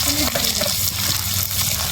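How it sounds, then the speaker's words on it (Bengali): Fish pieces frying with salt and turmeric in hot oil in a Bengali home kitchen, giving a steady, close sizzle with light stirring scrapes and no talking. "আমি ভালো ভালো করে ভাজা করে নেব"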